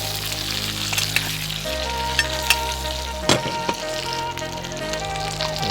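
Salmon fries in garlic butter while being basted, a constant close sizzle and crackle with occasional clinks and scrapes of the spoon against the pan.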